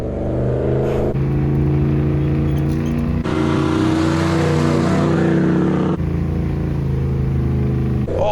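A truck engine runs and revs, its deep droning hum swelling into a louder, brighter roar mid-clip before dropping back to a steady idle-like drone, close and continuous with no talk.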